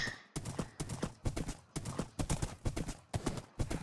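Horse hooves clip-clop in Minecraft at a steady trotting rhythm, each beat sharp and distinct with brief gaps between, close and alone with no talk.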